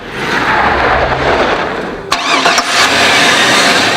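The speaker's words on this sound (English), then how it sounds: "Under the hood sits one serious V8 that really does mean business" A 2002 Chevrolet Avalanche V8 heard up close, a loud steady engine rumble that dips briefly, then a sharp mechanical clunk and catch before the engine settles back into a strong idle.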